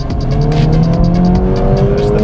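A 2024 Acura Integra Type S launches hard with traction control on, the engine revving loudly and climbing through the gears with a brief tire chirp, close and dominant with no talk.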